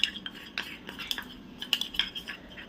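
A homemade hair oil blend stirred in a small bowl, heard as quick, light metallic clinks and taps of a spoon against the bowl in an irregular rhythm, close and soft, with no talk.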